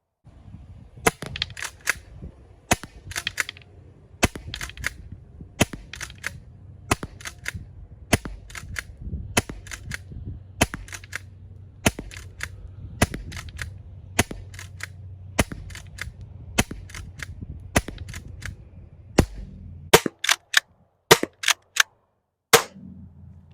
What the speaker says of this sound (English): I'm just gonna shoot 1 round, all 16 balls through the chronograph